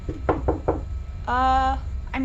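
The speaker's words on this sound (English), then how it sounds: "I try again, then knock a little louder on the open door" Knocking on an open door, three distinct raps in a quick row at moderate loudness, followed by a tonal chime-like sound.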